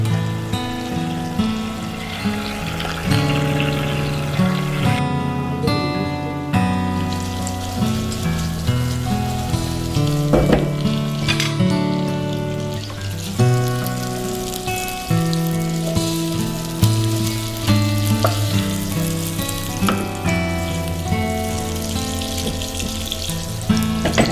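Mutton keema bullets fry in a pan over a medium flame with a continuous soft crackling sizzle, partly masked by louder background music.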